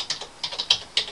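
Several quick, light clicks of typing on a computer keyboard, close by and in an uneven rhythm, with no voices.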